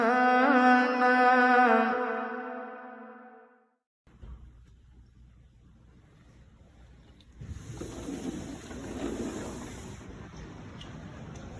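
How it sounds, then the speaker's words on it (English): Water running from an outdoor pool makes a steady rushing wash that grows louder in the second half, after a few seconds of tonal cooing or chanting at the start. "I love to hear the water running from the pool."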